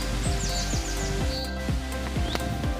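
Birds chirp and twitter in quick, high whistles over a steady rush of a waterfall in Roxas, Palawan, with rhythmic low thumps recurring underneath.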